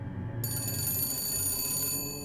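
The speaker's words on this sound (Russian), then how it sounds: "Телефон?" A telephone rings in the video game BioShock Infinite, a continuous bright trilling ring that sounds steadily for about two seconds and stops, heard alone at moderate volume.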